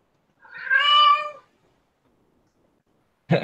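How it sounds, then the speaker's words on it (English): A domestic cat gives a single drawn-out meow close by, followed by quiet and then a brief, abrupt sound at the very end. "My cat is meowing at me incessantly."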